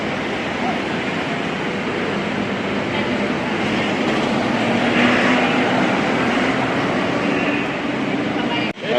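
Metro Manila MRT train rumbling steadily overhead for the whole stretch, a loud continuous roar of wheels and traffic noise with the sound swelling midway and a faint voice underneath.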